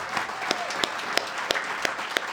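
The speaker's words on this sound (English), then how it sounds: "So big round of applause for John." Audience applause at a live music show in the Dennison Lodge, a steady wash of many hands clapping with a few sharper claps standing out, moderately loud and continuous with no talking.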